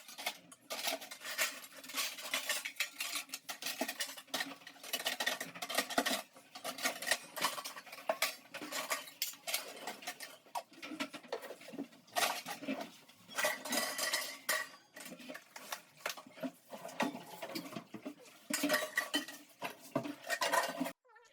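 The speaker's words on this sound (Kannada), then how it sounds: "ಎಲ್ಲ ಪಾತ್ರೆ ಎಲ್ಲ ಜೋಡಿಸ್ಕೊತಾ ಇದ್ದೀನಿ." Pots, dishes and metal cutlery being stacked and arranged in a home kitchen during a deep clean, a steady run of close clinks, clatters and knocks with no talking.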